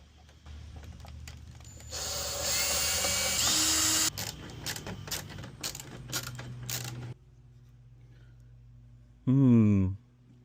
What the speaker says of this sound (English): we're going to be taking out quite a few screws here